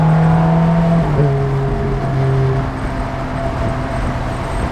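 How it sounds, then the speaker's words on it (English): A Ferrari F430 engine revs through its exhaust with a loud, close, deep growl that settles into a steady idle hum. "Listen to that exhaust."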